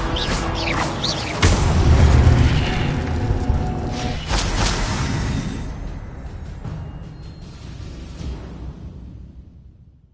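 An Incendio fire spell is cast in Hogwarts Legacy, a burst of whooshing flame with a heavy thump that swells loudly and then fades into a long crackling tail.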